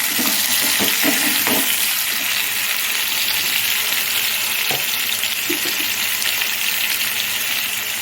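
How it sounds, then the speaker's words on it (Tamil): Tomatoes sizzle and sauté with salt in a pan for Tamil sundal kulambu, a steady frying hiss throughout with a few soft stirring knocks early on and no talking. "கொஞ்சமாக தக்காளி வதங்கிறதுக்கு மட்டும் போட்டோம்."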